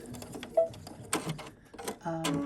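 A home sewing machine with a bi-level presser foot runs short bursts of top stitching, a whirring mechanical buzz that starts and stops, close by, along with intermittent background sounds.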